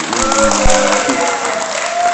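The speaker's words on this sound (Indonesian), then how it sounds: "Tepuk tangan dulu dong." Audience at an Islamic boarding school quiz competition for students claps steadily, a dense continuous patter with some crowd noise and a faint tone running underneath.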